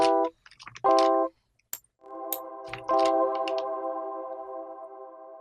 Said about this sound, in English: we can make this reverb last longer